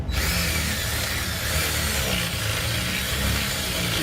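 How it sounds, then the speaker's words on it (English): A power drill wallows out a hole in a fiberglass open fisherman boat console during repair work, grinding and rasping continuously up close at steady volume without any talking. "he's having to use the drill to wallow the hole out big enough for the thing to go into"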